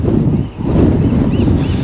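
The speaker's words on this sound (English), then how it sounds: "It's really windy." Strong wind buffets the microphone outdoors on Alcatraz island, a dense continuous low roar that dips briefly near the middle, then surges back.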